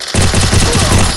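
Rapid automatic gunfire rattles close and loud in a bursting, rhythmic string during a match of the mobile shooting game Free Fire.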